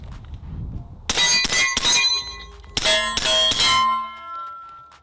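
Two bursts of sharp metallic clangs from suppressed rifle shots with 147 grain rounds hitting a steel target, each a quick cluster of ringing hits on steel, with bright tones lingering and fading after the second burst.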